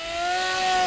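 Steady, high-pitched buzz of a model aircraft engine running flat out at full throttle, loud and close, a continuous even whine with no talking.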